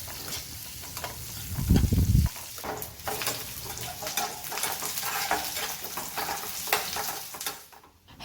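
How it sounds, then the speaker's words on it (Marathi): Onion frying in a little oil in a wok, a steady close sizzle with light stirring and scraping throughout and a brief louder rumble early on. "याच्यात मी कांदा परतून घेते अगोदर। तर कांदा चांगला लालसर परतून घ्यायचा आहे।"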